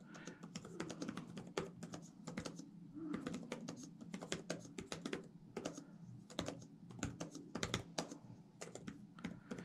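Fast typing on a computer keyboard during online typing practice makes a steady, dense run of close clicking keystrokes with brief pauses, and no one talks.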